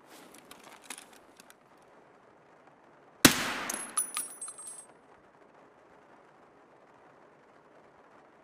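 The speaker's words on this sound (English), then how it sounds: "Bullet literally bounced off his head." A single loud gunshot with a sharp metallic ping as a bullet glances off a helmeted head in Escape From Tarkov, followed by a few scattered clinks, with quieter game ambience before and after.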